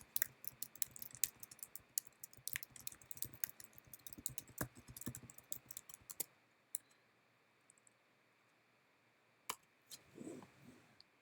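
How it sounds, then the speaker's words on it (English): Rapid clicking keystrokes on a computer keyboard as a question is typed into a text entry box, a dense run of close, crisp taps for about six seconds, then near silence broken by a few isolated clicks. "so I'll just type in a simple one."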